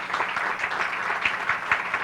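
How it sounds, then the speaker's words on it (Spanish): Audience applause follows a talk on gynecological cancer at a medical lecture, dense and steady clapping from a crowd with a few sharper individual claps, filling the whole stretch without speech. "le brindamos un fuerte aplauso"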